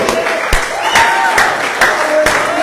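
Scattered hand claps ring out in a loose, uneven rhythm over a murmuring church congregation, moderately loud and close.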